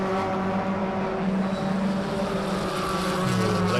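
Race cars at a 2022 regional racing festival exit a turn onto a double right-hander, a continuous loud engine drone with a pitch drop near the end as they brake and swing through the corner.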